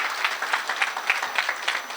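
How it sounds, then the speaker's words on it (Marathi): An audience at a talk applauds for a guest, close and dense clapping with a quick uneven rhythm that holds steady throughout. "जरा जोरदार टाळ्या राहुल सरांसाठी या ठिकाणी."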